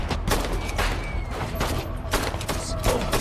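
Rapid gunfire from a film crackles in dense bursts of sharp shots over a low rumbling soundtrack, loud and continuous for a few seconds.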